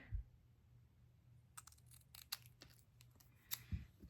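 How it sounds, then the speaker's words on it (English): Scissors snip through paper for a papercraft project, a few sharp crisp cuts and rustles in a quiet room, faint and close with short pauses between snips. "you're going to bring in your scissors and you're going to cut this in half"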